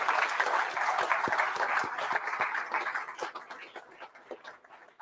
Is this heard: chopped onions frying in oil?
no